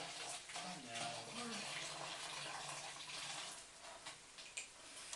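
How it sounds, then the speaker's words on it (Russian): Boiled water pours into a bottle in a steady, faint gushing stream, with a voice murmuring quietly in the background. "кипяченую воду сливаю в эту бутылку"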